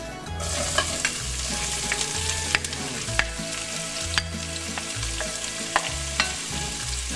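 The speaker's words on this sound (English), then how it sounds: "Nice sizzle." Onions and leeks sizzle and crackle loudly in hot olive oil over medium-high heat, with occasional sharp clinks of a utensil stirring the pan, no talking.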